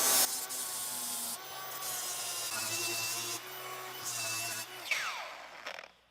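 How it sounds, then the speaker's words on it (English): A grinder working on screw points sticking through wood, its motor whining in steady pitches that shift with grinding bursts and pauses, close and fairly loud, then spinning down at the end. "Luckily, we got ourselves a grinder, so it's really not that big of a deal."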